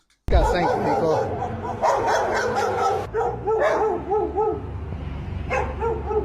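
Several well-trained, well-socialized pit bulls bark and yip in loud, repeated bursts, with some whimpering and someone speaking over the barking throughout.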